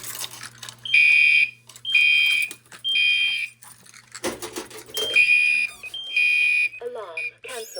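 A building fire alarm system sounds from a Simplex panel, giving repeated loud electronic beeping bursts about once a second with short gaps and a brief clatter midway. A voice speaks around the beeps.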